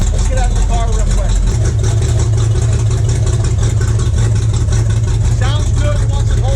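A car engine fitted with a new 8-stack EFI setup idles on its own, a steady, loud, continuous rumble with a constant low drone from start to finish.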